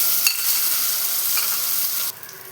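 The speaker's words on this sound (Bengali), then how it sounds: "এই তেলের মধ্যে আমি জিরাটা দিয়ে দিলাম, গোটা জিরে।" Whole cumin seeds and a boiled potato sizzle in hot oil in a pan with a close, steady hiss that drops noticeably quieter near the end. No one talks.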